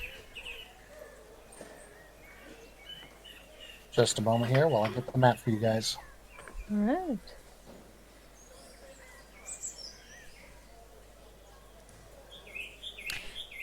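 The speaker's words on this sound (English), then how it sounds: "Birds are chirping." Birds chirp faintly in the background of an Elder Scrolls video game, soft scattered calls under a man's speech, with a few louder tonal whistles.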